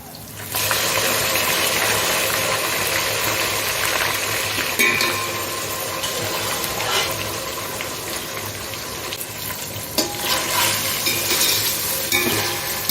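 Beef tipped into a pan of sizzling ginger paste with onion, garlic and whole spices over high heat, hissing loudly and steadily while a utensil clinks and scrapes as it is stirred.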